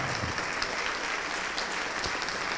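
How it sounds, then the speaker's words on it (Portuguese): A church congregation applauds in a continuous, even patter of many hands clapping together, fairly close and steady throughout the short stretch. "Vamos aplaudir mais, igreja."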